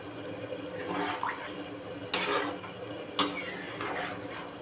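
Warm water poured into a pan of jackfruit and potato curry, a faint, close splashing gush that comes in a few quiet bursts.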